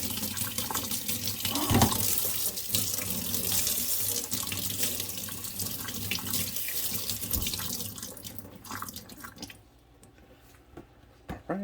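Steady running tap water pours and splashes as a G3 Monster High Ghoulia doll's hair is washed in a sink, continuous and close, with light drips and squishy wet handling, cutting off abruptly near the end.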